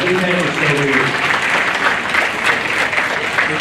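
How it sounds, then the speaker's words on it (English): Audience applause at a junior livestock show in Moore County, a dense steady clapping that fills the whole clip with some crowd noise, while a voice talks over the start. "Let's give all these kids a round of applause"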